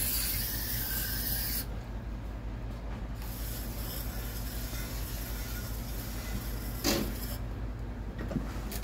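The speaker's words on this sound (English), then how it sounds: "this is a coil cleaner, he's spraying right now" Coil cleaner sprayed onto an air conditioner coil during servicing, a close, loud, continuous hissing spray with brief pauses and a short bump near the end.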